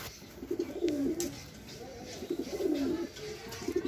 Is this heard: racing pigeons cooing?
yes